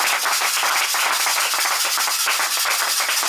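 A church congregation clapping together to acclaim the Lord, with dense, continuous rapid hand claps at an even loudness for a few seconds and no talk.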